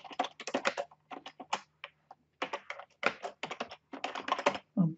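Someone types on a computer keyboard while filling in an online registration form, producing close, rapid bursts of key clicks in irregular runs separated by short pauses.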